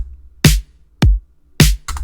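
A disco-style kick and snappy, hard-hitting snare trade off in a simple pop drum pattern, three punchy hits with a short fill at the end, loud and dry.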